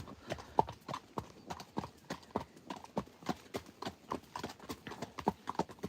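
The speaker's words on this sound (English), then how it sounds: "You're riding with two horses and holding the camera." Hooves of two ridden Friesian horses clip-clop in a steady, brisk rhythm, each strike close and crisp with faint background noise between.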